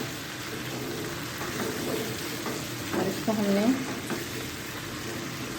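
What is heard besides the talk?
chicken drumsticks frying in a pan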